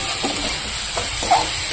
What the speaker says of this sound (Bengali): আলুটাকে একটু ভেজে নিয়েছি, তারপরে ডাটাটা দিয়েছি, তারপরে যে কাঁচা লঙ্কা বাটা দিয়ে কষিয়ে নিচ্ছি